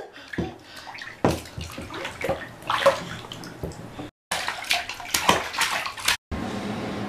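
Water runs steadily into a bathtub being filled for a bath with bubble bath, a continuous splashing rush with brief sloshing breaks and two short cut-outs.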